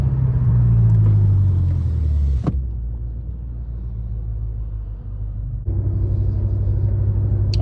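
BMW F10 M5 engine from the driver's seat as it downshifts, a loud low rumble that swells, drops away sharply with a brief pop, settles into a quieter drone, then rises again near the end.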